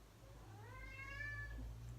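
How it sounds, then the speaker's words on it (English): A pet cat gives a single drawn-out meow, rising then falling, fairly faint and somewhat distant over a low steady background hum, with no talking. "If you can hear my cat, she's saying"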